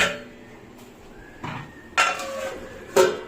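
A lid is set on a cooking pot of boiling eggplant, giving a few sharp metallic clanks close by against a quiet background.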